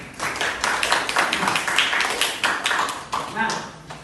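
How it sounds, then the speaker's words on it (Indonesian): A classroom group applauding, steady dense clapping for several seconds with a crisp, close, even texture throughout. "Sebelumnya beri aplaus untuk kita semua."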